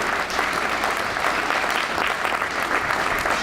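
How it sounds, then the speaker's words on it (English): A town hall meeting audience gives a loud, steady round of applause, dense clapping from many hands held at an even level from start to finish with no speech on top. "You deserve that round of applause."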